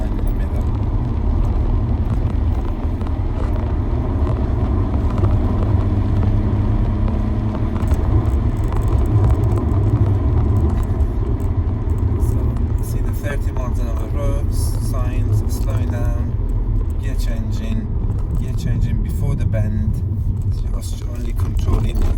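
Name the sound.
car driving in low gear on a tight road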